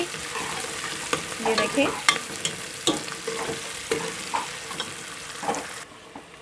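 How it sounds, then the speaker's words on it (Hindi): Two medium onions frying in half a cup of oil in a pot, being stirred until lightly golden for tinda gosht; a steady soft sizzle with scraping stirs, with no one talking. "मैंने एक देचकी में आधी प्याली ऑयल की ली है और इसमें मैंने 2 अदद मीडियम साइज़ के प्याज लिए हैं और इनको मैं अब हल्का सा गोल्डन कर लूँगी।"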